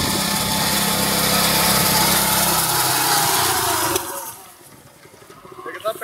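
The engine of a Kamco power reaper harvesting machine runs loud and close, a steady high buzzing drone that drops away sharply near the end, leaving quieter rustling and faint background noise.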